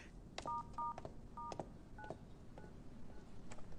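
Phone keypad tones beep in several short pairs of dual-tone presses, spaced irregularly, fairly close and clear over a quiet room background, with no talk.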